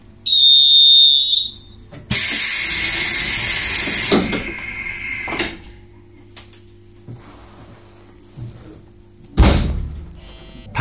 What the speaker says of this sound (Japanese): ドアが閉まりますのでご注意ください